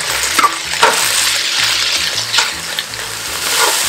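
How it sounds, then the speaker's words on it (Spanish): Onion fries with beef in a pan, a loud close sizzle with crackling spatters and soft scraping stirs throughout. "ya que está la carne lista, agregamos la cebolla"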